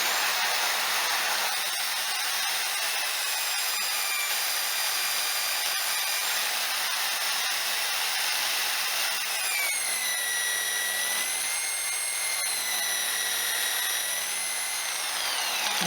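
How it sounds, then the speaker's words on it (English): A soft buffing pad loaded with white rouge metal polish runs steadily against a vintage fire extinguisher, giving a loud continuous whirring hiss with a faint shifting whine and no talk. "Then I've got my last stage, which is a really soft pad with the white actual rouge, or Dura's rouge, or metal polish"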